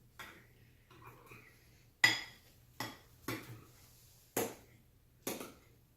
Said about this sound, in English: And you just gently mix it in without spilling any of the glue.